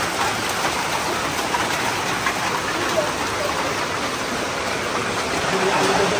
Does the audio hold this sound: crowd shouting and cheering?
no